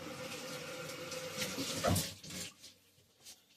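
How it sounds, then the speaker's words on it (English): Water runs from a kitchen faucet onto a paper towel, a steady rushing stream that cuts off partway through, leaving a quieter tail with no talking. "I'll run it under the faucet."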